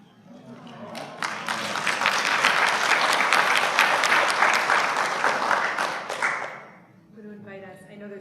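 An audience at a B'Mitzvah ceremony breaks into loud, sustained applause that swells, holds for several seconds and then tapers off, with a voice beginning to speak as the clapping dies away.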